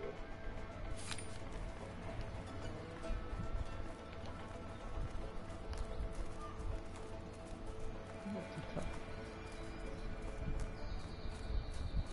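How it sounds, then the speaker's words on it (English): Steady hoofbeats of galloping horses in the video game A Way Out run throughout, with a brief whinny and ambient outdoor noise in a dense, continuous mix. "Let's just hope these horses keep running."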